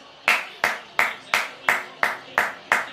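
Eight slow, evenly spaced hand claps from one person, sharp and close, given sarcastically by a frustrated Barcelona fan reacting to the Girona 4-2 Barcelona match.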